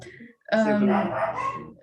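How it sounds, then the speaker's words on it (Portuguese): Several dogs bark indoors in short, loud bursts that begin partway through, mixed with a person talking in Portuguese. "Desculpa, os meus cães decidiram..."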